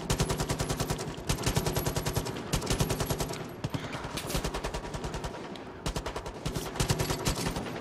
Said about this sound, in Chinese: 到处都有枪声